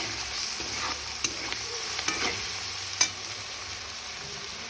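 Toor dal ingredients frying in a pan with salt, stirred steadily under a constant close sizzle, with a few sharp spoon scrapes and clicks against the pan.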